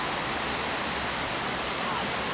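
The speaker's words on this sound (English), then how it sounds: "We're right by the Shishan waterfall, and it is just an incredible scene." Shishan waterfall in Pingxi, Taiwan, roars as a steady, dense wash of falling water, close and loud, filling the whole moment without a break.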